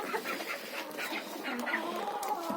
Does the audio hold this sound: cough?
no